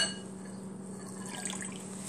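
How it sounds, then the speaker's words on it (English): Water poured into a kitchen bowl while preparing Chinese Canton chicken, a quiet steady liquid trickle with light splashing over a low background hum. "in this bowl I'm going to add the water"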